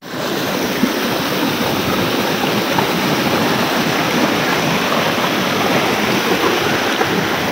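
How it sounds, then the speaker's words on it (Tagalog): A strong river current rushes loudly and continuously, a dense, even roar of flowing water close by with no voices. "Lakas ng ilog."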